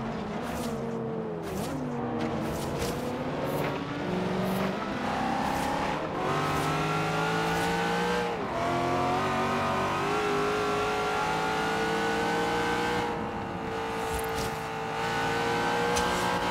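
A car engine revs and shifts through gears while driving in Forza Horizon 3, pitch rising and falling with each acceleration, loud and continuous throughout with no talk.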